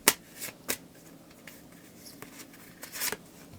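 Cards from an oracle deck are shuffled and drawn during a tarot reading, with several close, sharp riffling flicks and soft handling rustles spaced unevenly over a quiet background.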